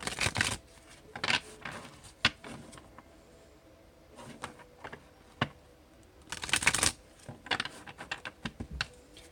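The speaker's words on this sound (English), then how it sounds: "I've already shuffled, but I'll do it again on camera." Tarot cards being shuffled in quick bursts of riffling and rustling, close and fairly quiet, with short pauses between.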